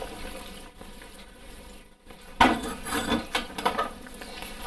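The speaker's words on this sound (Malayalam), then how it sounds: "ഇനി നമുക്കിത് ചട്ടി ഒന്ന് എടുത്ത് ചുറ്റിച്ച് വെക്കാം" A cooking pot holding Kerala-style mackerel curry with fish pieces in a boiling gravy is lifted and swirled, giving a brief clatter of pot against the stove, then a few softer scraping knocks, close by with no talking.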